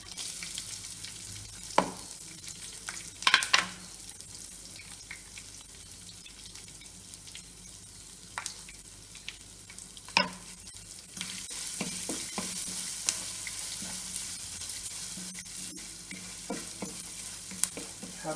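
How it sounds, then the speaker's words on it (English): Blended coconut, green chilies and fenugreek seeds sautéing in a tadka over a low flame: a continuous soft sizzle and crackle, close by, with intermittent sharp pops and spoon scrapes against the pan, no voices. "Have to saute it on a low flame for about a couple of minutes"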